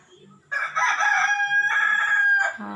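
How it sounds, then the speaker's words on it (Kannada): A single loud rooster crow rings out close by in a village, drawn out for about two seconds before tapering off. "ಕೋಳಿ ಕೂಗ್ತಾ ಇದ್ದಾವೆ"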